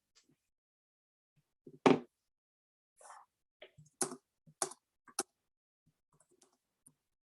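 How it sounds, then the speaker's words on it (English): Scattered computer keyboard keystrokes arrive in small irregular bursts and single taps, close and fairly crisp, separated by near silence with no talking. "I'm just typing up for people who are asking questions"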